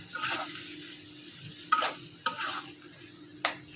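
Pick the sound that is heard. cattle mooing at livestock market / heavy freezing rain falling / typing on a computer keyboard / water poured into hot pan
water poured into hot pan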